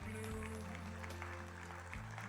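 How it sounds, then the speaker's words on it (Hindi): An audience at a literary festival stage event claps steadily for guests, a faint even patter of applause heard over a low sustained hum. "तो उनके लिए भी ज़बरदस्त वाली तालियां हो जाए"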